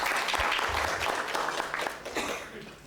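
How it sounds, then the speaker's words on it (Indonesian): An audience at a panel event on a just energy transition and green jobs applauds a speaker, a steady wash of clapping that fades toward the end. "Boleh tepuk tangan buat Bapak Dodi."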